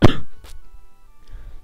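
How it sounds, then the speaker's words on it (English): A single burst of coughing opens, loud and close, followed by a softer second cough a moment later, then quiet room noise. "Jeez, if I could stop coughing for a little bit."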